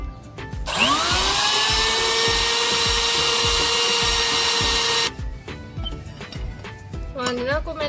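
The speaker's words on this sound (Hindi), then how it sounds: "अब सुहांजना को ग्राइंडर में डाल लेती हूँ और इसे फाइन पाउडर की सूरत में" A loud, steady motor whine from an electric kitchen grinder pulverizing sun-dried moringa leaves into fine powder runs for about four seconds, then stops, followed by clinks and handling noises of the jar.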